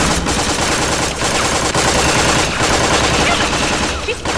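Rapid, dense automatic gunfire in the video game Tales from the Borderlands, loud and continuous bursts with brief gaps, filling the whole moment.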